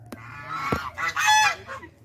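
A Chinese goose honks loudly several times in quick succession, harsh nasal calls rising and falling over about two seconds, close by with no talking.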